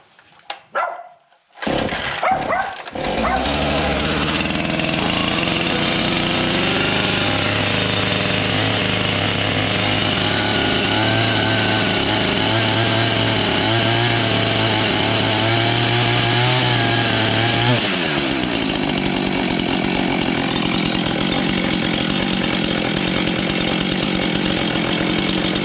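A Husqvarna 450 Rancher chainsaw starts up and idles loudly and steadily while warming up, its engine note holding for about fifteen seconds before dropping to a rougher idle.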